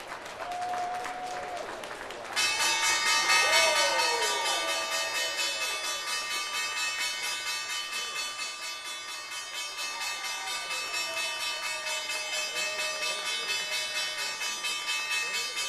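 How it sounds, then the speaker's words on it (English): A stock exchange closing bell rings at the 4 o'clock close of trading from the bell podium, a loud, steady metallic ringing that starts abruptly after a brief lead-in and holds continuously, with crowd noise underneath. "Time now for that closing bell"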